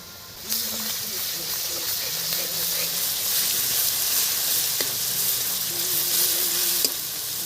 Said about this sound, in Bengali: পেঁয়াজের মধ্যে আমি রসুন বাটা দিয়ে দিচ্ছি